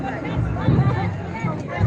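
A crowd of people gathered at a hotel, a dense murmur of overlapping chatter filling the space around a nearby voice speaking.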